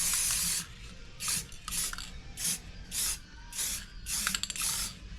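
Valspar Basic Colors gloss black spray paint hisses from a can in a series of short bursts, about eight sprays with brief pauses between them, close and fairly quiet, with no talk.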